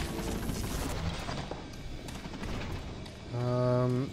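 A hacked turret firing in the video game Bioshock: mechanical clatter and gunfire throughout, ending in a louder burst with a rising whirring, buzzing tone near the end.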